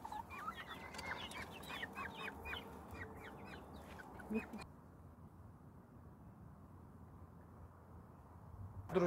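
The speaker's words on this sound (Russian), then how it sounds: "Вот курочка, она ручная." A tame hen clucks softly in a backyard poultry enclosure among other fowl, with scattered short calls over a quiet outdoor background, followed by a stretch of faint ambience.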